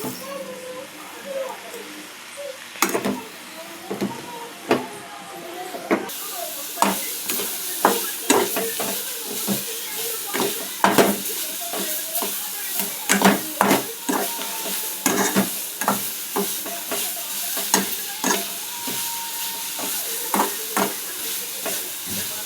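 Onion and other ingredients for palak spinach rice fry in a pan, a steady sizzle punctuated by many sharp stirring scrapes and clinks of a utensil against metal, close and fairly loud throughout.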